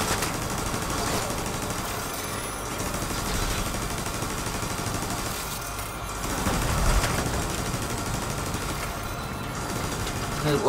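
Steady, dense video-game gunfire fills the whole stretch, a continuous rattle of shots at even loudness with brief swells and no clear pauses.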